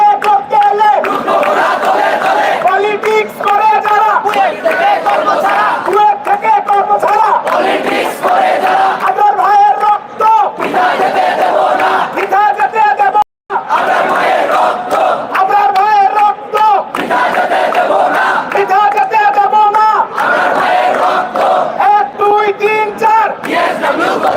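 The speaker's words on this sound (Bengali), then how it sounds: "দেখতে পাচ্ছেন স্লোগান দিচ্ছেন এবং তারা বলছেন বুয়েটে রাজনীতির আশ্রয় হবে না" Protesters chant slogans in unison at a demonstration on the BUET campus, a loud rhythmic crowd call-and-response that repeats steadily throughout with a brief break midway.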